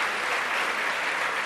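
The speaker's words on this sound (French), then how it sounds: "Applaudissements pour Pierre Bellemare." A studio audience at a French television talk show claps in a dense, steady burst of applause that fills the room evenly, with no voices over it.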